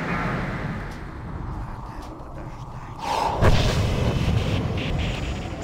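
A star explodes in an online video game with a booming, rumbling blast that swells midway over a constant roar of battle noise, loud and dense throughout.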